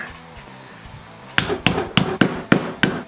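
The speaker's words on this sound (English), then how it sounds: "we're gonna see if I need to use the mallet to get this off" Six sharp hammer blows ring out on a metal sleeve on a Dana 30 axle at a steady pace, loud and close, after a brief quiet stretch.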